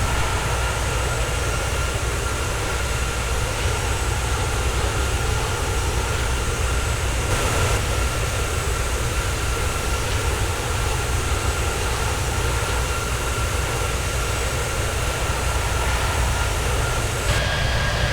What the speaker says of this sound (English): We're continuing to climb up to flight level 370 on our way down to Haiti. This is the Just Flight Boeing 757-200 freemium version.